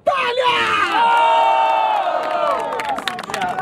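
A crowd at a rap battle erupts in loud cheering, whoops and shouts, a dense sustained roar from many voices close by.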